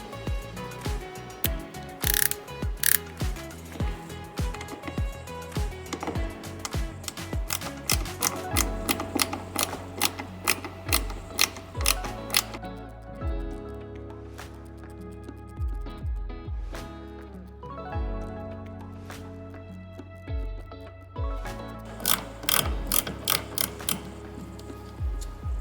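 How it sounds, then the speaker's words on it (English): Rapid, close ratcheting clicks from a handheld ratcheting screwdriver in a woodworking shop, repeating in irregular bursts with short pauses between them. "It's a ratcheting screwdriver."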